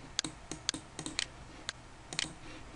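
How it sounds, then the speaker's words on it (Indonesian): Keys on a computer keyboard click in a quiet room, about a dozen faint, sharp taps in quick irregular bursts. "ketika kita di keyboard tombol E, tak"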